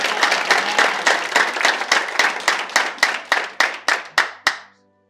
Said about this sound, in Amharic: እና ጭብጨባ ይገባት።